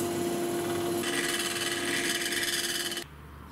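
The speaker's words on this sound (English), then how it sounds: "So now I can put it in the lathe." A wooden pulley for a mowing deck spins on a lathe with a steady, loud motor whine and a rough whirring rub that brightens partway through, then drops to a lower hum near the end.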